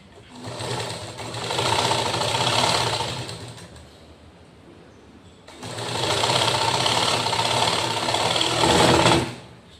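A sewing machine stitches a strip onto a blouse in two long runs, a close whirring buzz that rises, holds for a few seconds, pauses briefly, then starts again.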